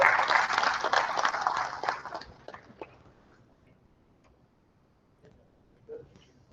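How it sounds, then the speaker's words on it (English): Audience applause at an engineering and technology conference, a dense burst of clapping that fades out after about two seconds, leaving scattered faint claps in a quiet hall. "Once again, a big round of applause for sir"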